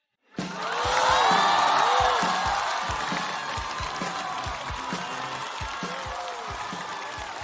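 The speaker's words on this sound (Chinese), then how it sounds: "我们掌声有请李卓妍" A studio audience at a Chinese stand-up comedy show bursts into loud applause and cheering that swells quickly, then settles into sustained clapping with whoops and shouts from a large crowd, while a host's voice cuts through briefly.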